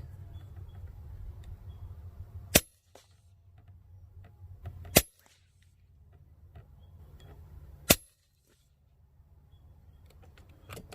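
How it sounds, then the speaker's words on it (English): Three sharp, loud shots from an FX Impact air rifle being tuned in the field, spaced a few seconds apart, each a crisp crack standing out over a low outdoor rumble. "now I'm just going to shoot at that setting for a few more shots"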